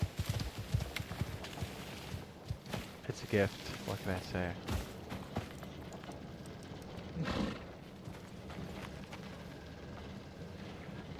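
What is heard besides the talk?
horses' hooves in the video game Icarus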